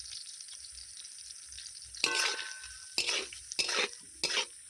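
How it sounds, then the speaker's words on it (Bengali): Prawns sizzle in hot oil with salt and turmeric, a steady frying hiss broken by four bursts of stirring and scraping in the pan, close by with no voices. "মাছগুলোকে ভালো করে ভেজে নেব"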